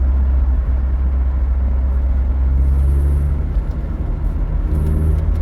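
An MG F car driving in third gear gives a steady low engine rumble and road drone from inside the cabin. The rumble runs continuously, with a slight rise in engine tone partway through.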